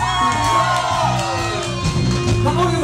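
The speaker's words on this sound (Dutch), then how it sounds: "Applaus voor Zander!" Festival crowd shouting, whooping and cheering at an outdoor rock karaoke show, loud and close, with music and voices mixed in through the brief burst.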